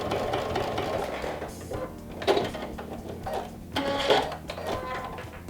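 A domestic sewing machine stitches through vinyl with a steady mechanical whirring hum, swelling in brief louder bursts as the needle runs, close and without talk.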